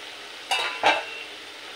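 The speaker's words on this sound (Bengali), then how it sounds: "মশলার সাথে ডালটা আরও 2 মিনিট কষিয়ে নেব।" Chana dal frying with spices in a covered pan makes a soft steady sizzle, with two quick scraping stirs just past the midpoint; fairly close and quiet, no voices.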